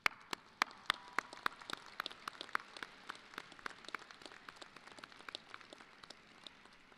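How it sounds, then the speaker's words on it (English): A commencement audience at a fall university graduation ceremony applauds the graduates' supporters: a steady stream of scattered, crisp hand claps that sound fairly distant and quiet in a large hall, with no talking. "Let's stand and let's applaud your supporters"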